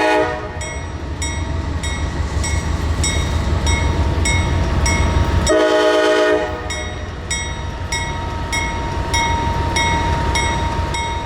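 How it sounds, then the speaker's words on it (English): A pair of CSX CM44 locomotives haul a train past at close range, a steady heavy rumble under repeated horn blasts, with a brief lull in the low rumble midway before it returns. "On this morning, we find a pair of CM44 locomotives coming out of Yeoman down to here at East"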